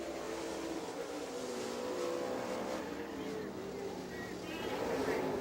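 A super late model race car engine drones at a distance on the track at Rome Speedway, Georgia, its pitch rising and falling as it circles through the turns, with a steady wash of background noise.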